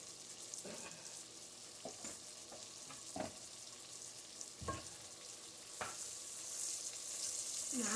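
Beef browning in a pot for a beef stew gives off a steady broadband sizzle and fry, broken by a few soft knocks and stirring scrapes, with the hiss swelling louder toward the end.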